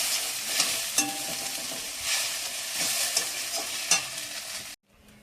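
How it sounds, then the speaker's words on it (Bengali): Okra with salt and turmeric frying in a pan with a steady loud sizzle, broken by scraping stirs of a spatula at intervals, then a sudden stop. "ঢেঁড়স ভাজাটা হয়ে এসেছে, এবারে নামিয়ে নেব"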